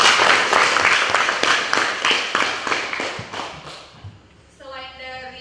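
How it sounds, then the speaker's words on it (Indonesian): Brief burst of classroom applause from students during a school lesson, scattered hand claps for about four seconds before fading, followed by a teacher's voice speaking. "Kita beri aplaus dong."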